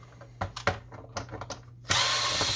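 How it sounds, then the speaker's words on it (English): Screws being backed out of an HP Officejet 6500 printer: a few short mechanical clicks and taps, then a steady, close whirring of a driver that runs to the end. "So to get to that, we're going to remove screws here."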